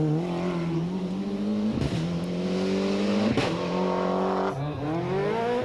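A Ford Escort rally car with a 7-speed gearbox on a stage of the 1995 Ulster Rally, its engine revving hard and climbing through several sharp gear changes, loud and close with brief dips between shifts.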